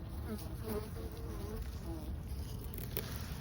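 Honeybees buzz around opened hives in a yard, a dense, continuous hum of many insects close by with faint scattered wingbeat whines throughout.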